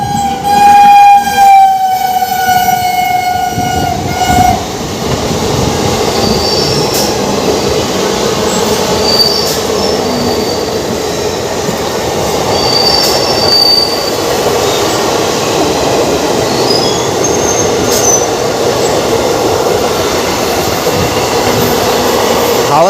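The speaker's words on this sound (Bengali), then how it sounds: "4:55 ট্রেন আসলো 5:10" A passenger train on the Kolkata to Digha line pulls into a station with a horn blast, then a long, loud rumble of wheels and carriages with faint squeals as it slows.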